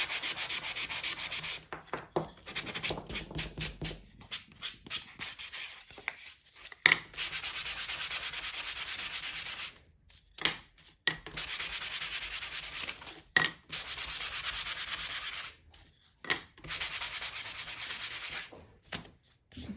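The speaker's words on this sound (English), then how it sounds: "So I'm going to sand all these edges." Painted wooden edges are sanded by hand in repeated rubbing strokes, a close, steady scratchy rasp broken by short pauses, with no talking.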